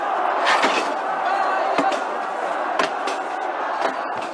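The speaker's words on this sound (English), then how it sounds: "They've actually taken off parts of the building, some fencing, and rammed these doors in some cases, breaking right through the glass" Protesters in Hong Kong ram building doors and break through glass: sharp repeated slams and cracks ring out over a noisy crowd, loud and near.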